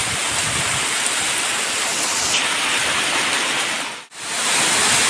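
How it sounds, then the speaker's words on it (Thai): Heavy rain pours down in a steady, loud hiss, dense and unbroken, with a brief dip in sound near the end. "ฝนตกหนักมากเลยนะคะ"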